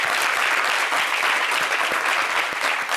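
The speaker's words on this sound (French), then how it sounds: "Il faut applaudir." A studio audience applauds a singer with dense, sustained clapping that fills the room at an even loudness from start to finish.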